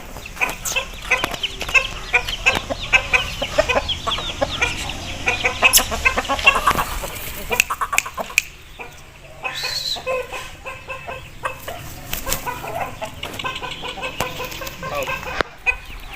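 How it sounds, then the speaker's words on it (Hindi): A young Topla Aseel rooster clucks again and again at close range, making a busy, uneven run of short calls over farmyard background noise, with no one talking. "जो पहले टोपला मुर्गा आपको दिखाया उसका ये पट्ठा है।"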